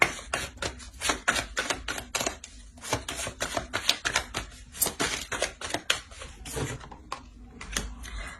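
Tarot cards being drawn and laid down during a card reading, heard as a rapid series of crisp taps and light slaps, close and fairly loud, with no talk.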